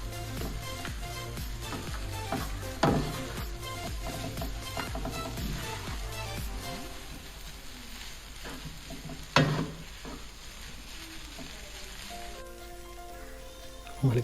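Kottu parotta mixed with chicken curry in a hot pan, with steady sizzling and scraping stirs throughout and occasional louder clanks of a spoon or spatula against the metal.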